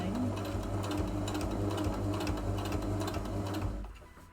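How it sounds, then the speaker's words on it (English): A sewing machine stitches shorts with a close, rapid, steady mechanical whirring that stops just before the end. "It is gonna be a bit louder, the sewing machine, but it's gonna be okay."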